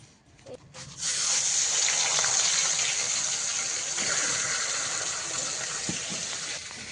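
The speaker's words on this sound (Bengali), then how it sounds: "মাছগুলো ওদিকে ভাজা চলছে" Fish frying in a pan, a steady loud hiss and sizzle that swells after a brief start and carries on evenly, close by with no voices over it.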